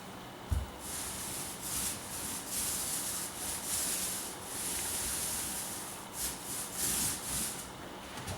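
Paint roller spreading paint across an interior wall near the molding, a steady soft rubbing hiss with repeated strokes, fairly close and alone.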